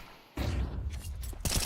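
MAC-10 submachine gun fire in Counter-Strike 2 during a professional esports match, with a loud sustained burst of rapid shots starting after a brief quiet moment and continuing to the end.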